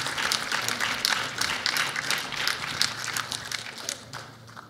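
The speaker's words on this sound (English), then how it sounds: "give all of our recipients a round of applause" A banquet audience applauds award recipients at an awards dinner, giving a lively, uneven round of clapping that starts full and thins slightly toward the end.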